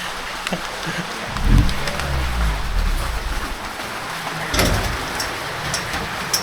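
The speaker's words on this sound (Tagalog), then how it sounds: "And the rain is falling down." Heavy rain falling, a constant hiss with a couple of louder low rumbling surges and scattered sharp patters mixed in.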